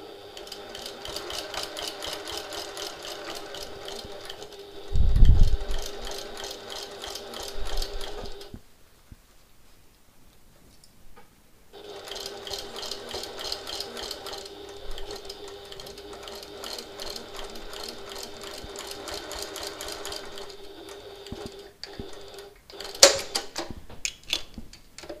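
A sewing machine stitches through layered handbag fabric with backstitching, a steady rapid mechanical whirr running in two long bursts separated by a pause, with a few knocks and clicks between.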